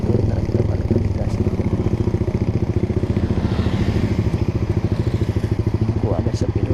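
Honda Sonic 150R motorcycle fitted with a Proliner TR1R short exhaust, a steady rapid-pulsing exhaust drone held at low throttle throughout, close and loud on a night ride, with traffic noise around it.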